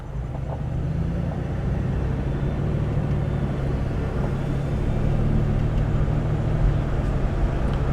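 A 1982 Avanti II car, built with Studebaker parts, idles with a steady, smooth low rumble that stays even and fairly quiet throughout, with no voices over it.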